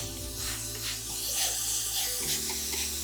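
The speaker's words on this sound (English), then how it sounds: "So y'all know I'm finna add some more water" Tap water running steadily and splashing while being added to natural hair during a copper colour treatment, a continuous close hiss with no talk.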